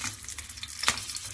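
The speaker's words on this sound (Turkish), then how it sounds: "Yağım kızdı. Şimdi patlıcanı atıyorum tavama." Steady sizzling of eggplant frying in hot oil in a pan, with a sharp crackle partway through.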